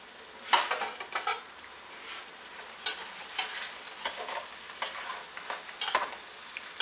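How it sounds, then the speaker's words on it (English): Sausages fry on high heat in a pan, with a soft steady sizzle under scattered clinks and scrapes of a utensil stirring against the cookware. "now you want to have your sausage frying"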